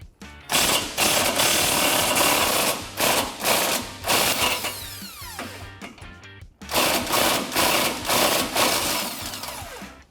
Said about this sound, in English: So we can get an 18mm socket on that and remove it.